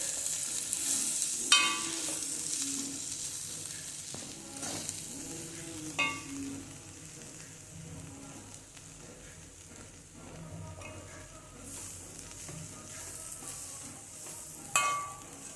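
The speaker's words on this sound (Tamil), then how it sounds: "தூவி கொடுத்து கிளறி கொடுக்கணும்." An ivy gourd fry dusted with rice flour sizzles steadily in a pan while a spatula stirs it, with a few sharper scrapes and knocks over a quiet, continuous crackle.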